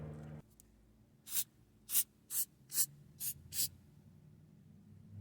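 Six short, sharp bursts from an aerosol can of lubricant sprayed onto a car's squeaky electronic lift gate, close and crisp, spaced about half a second apart in a quiet setting.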